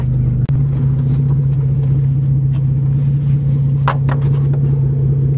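A manual Toyota car's engine rumbles steadily while driving on a farm, a low constant drone with a sharp knock near the start and faint clatters later.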